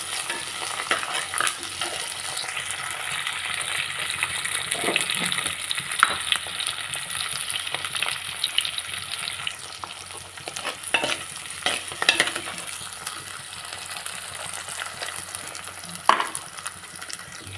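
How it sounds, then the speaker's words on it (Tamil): Sliced big onions, shallots, green chillies and curry leaves sautéing with a little salt in a pan for a pepper fish curry, heard as a soft, steady sizzle under repeated stirring scrapes, with no voices. "சீக்கிரமாக வதங்க வேண்டி கொஞ்சமாக உப்பு கூட போட்டு வதக்கு"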